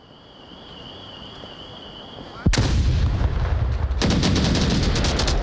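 Bursts of gunfire and a sharp blast in a competitive VR shooter match after a grenade throw. A steady electronic tone comes first, then a sudden loud explosive hit, followed by dense rapid gunfire.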